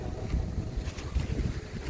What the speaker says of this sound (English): it is very windy out here today.